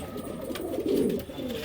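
Mixed-breed pigeons coo in a low, soft, continuous murmur at close range, swelling briefly in the middle, with no voices over them.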